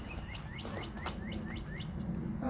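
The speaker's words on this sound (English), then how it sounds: "Cardinal. Yes. Good job. You got it." A cardinal sings in Jamaica Bay during spring migration, a series of clear, evenly spaced whistled slurs repeating at a steady pace, moderately distant over a low rumble of wind and ambient noise.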